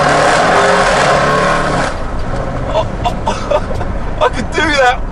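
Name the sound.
Audi RS6 C7 with Milltek exhaust revving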